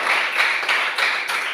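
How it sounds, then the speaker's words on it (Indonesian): A classroom of students clapping hands together, a short, close burst of rhythmic claps lasting under two seconds. "Beri tepuk tangan untuk semua dulu."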